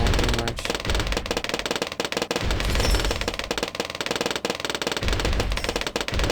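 Rapid minigun and cannon fire from a tower defense video game, a dense, continuous stream of loud shots and blasts layered with game effects and music throughout.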